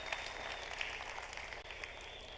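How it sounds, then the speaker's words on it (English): An audience at a TECNO product launch event applauds steadily, a dense continuous patter of many hands clapping at once, holding even for a couple of seconds. "a round of applause for this"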